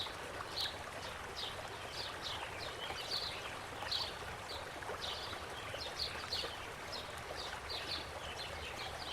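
A paintbrush swishes and taps in a cup of rinse water, giving soft, faint repeated splashes and trickles at an irregular rhythm.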